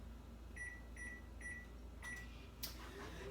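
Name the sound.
microwave oven running to melt chocolate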